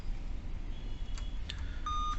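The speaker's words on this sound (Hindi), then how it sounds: "फिर भी ये बीप बजती है" Dell Vostro 2520 laptop motherboard giving an error beep: faint short electronic bleeps, ending in one clearer sustained tone, over a low background hum.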